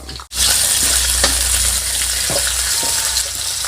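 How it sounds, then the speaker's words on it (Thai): Loud, steady sizzling as chicken fat, ginger, garlic and coriander root hit hot oil in a wok, a dense crackling hiss that starts abruptly and continues with occasional stirring clinks. "ก่อนที่จะผัดข้าวเราก็จะมาเจียวน้ำมันก่อนนะครับ"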